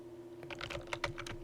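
A computer keyboard is typed on in a fast, quiet run of keystrokes that follow a short pause, close by with a faint steady hum underneath and no speech.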